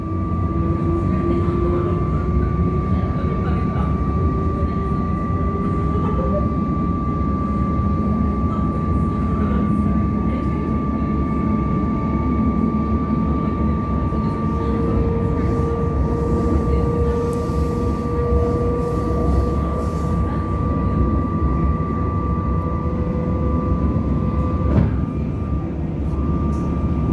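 Inside a Comeng suburban train running from Frankston toward Flinders Street, a steady loud rumble of wheels and traction motors carries on throughout, with a whining motor tone that rises and falls and faint voices in the carriage.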